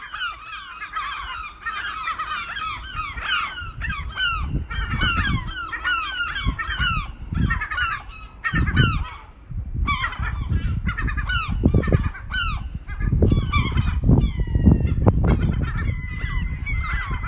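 A seagull chick and its mother call back and forth, loud, close, rapid squawking and honking cries in dense overlapping bursts throughout, with no talk.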